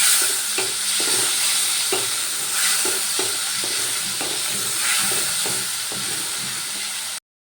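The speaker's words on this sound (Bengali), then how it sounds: "এবার এই পেস্টটা আমি ভালো করে কষিয়ে নেব যাতে টমেটোর কাঁচা গন্ধটা না থাকে" A ginger, tomato and green chilli paste is stirred and fried in a pan for paneer, with a continuous loud sizzle and repeated scraping strokes of a spatula at an uneven rhythm, close by.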